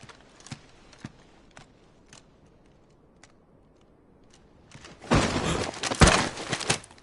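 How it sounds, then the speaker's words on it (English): Horse hooves clip-clop in Final Fantasy XVI, sparse faint steps at first, then a louder, busier run of hoofbeats and clatter near the end. "I'll ready your steed."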